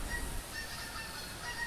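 A goose honks in theHunter hunting game, a faint call over a steady low ambient hiss, with no voices during it.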